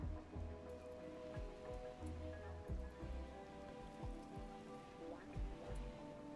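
Rain falls steadily in the video game RimWorld, a soft continuous patter with faint tonal game music underneath and periodic low thuds.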